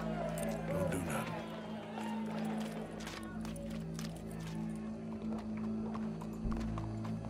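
Horse hooves clip-clopping in the game Red Dead Redemption 2, a steady trotting rhythm close by, under voices talking and a low crowd murmur.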